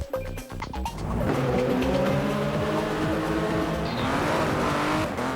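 Race cars roar and skid in the PC racing game GTR FIA GT Racing, loud sustained engine drones rising in pitch with tire squeal, after a brief choppy opening, no voices.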